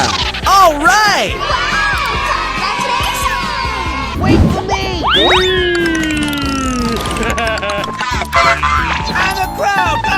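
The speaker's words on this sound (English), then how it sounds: "And the crowd goes wild!" A crowd of kids cheering and whooping wildly around a car and ramp crash scene, with cartoonish boing and sliding sound effects and excited shouts over busy background music.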